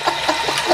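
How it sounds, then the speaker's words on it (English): A toilet with glow sticks dropped in the bowl flushes in a steady, close watery rush that lasts the whole short moment, with no talk over it. "We're gonna flush it now."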